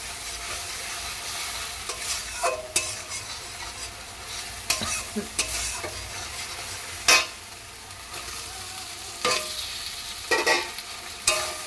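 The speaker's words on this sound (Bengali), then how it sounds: "এবার ভাজা উঠছে আর আলুগুলো এর মধ্যে দিয়ে দেবো" Potatoes sizzle in a pan of hot oil with cumin, nigella seeds, green chilli and dried chilli paste, a soft steady frying hiss broken by intermittent scraping and clinking of a stirring spoon.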